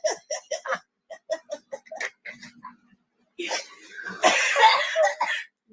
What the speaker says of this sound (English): You better clear your throat like fast.